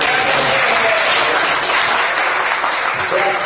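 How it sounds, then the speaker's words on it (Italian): A room of people applauds at a town council meeting in Sarno, Italy, a dense, steady burst of clapping that is loud and close and lasts the whole stretch. "prego di fare un applauso per chi"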